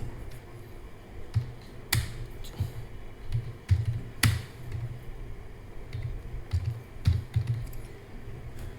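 Someone typing a number into an Excel spreadsheet on a computer keyboard: scattered close key taps and a few sharper clicks, under a voice speaking Hindi.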